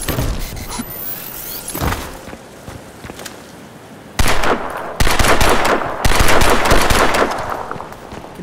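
Gunfire in the survival video game Dead Matter: rapid, close bursts of shots crackle and clatter, growing louder and denser toward the end, mixed with faint mechanical clicks.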